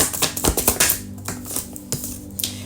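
A deck of tarot cards being shuffled by hand gives close, crisp bursts of rapid snapping clicks that thin out into a few scattered taps, with no talking.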